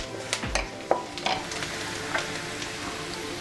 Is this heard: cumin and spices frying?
yes